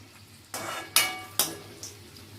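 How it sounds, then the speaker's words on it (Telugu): Garlic, with curry leaves to follow, frying in a pan until brown, heard as a low steady sizzle broken by a few sharp scraping stirs of a spoon against the pan, close and fairly quiet. "అవి వేగనివ్వాలండి మంచిగా, ఇలా బ్రౌన్ అవ్వాలి."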